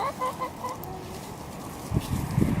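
Chickens cluck softly on a small family farm behind chicken netting, a few scattered calls early on, then a louder bout of rustling and thumping movement near the end.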